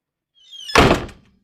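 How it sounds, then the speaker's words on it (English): A door opens with a short creak and then shuts with a solid thunk, a single close, brief sound in an otherwise quiet room. "Another door creaks open, then shuts closed."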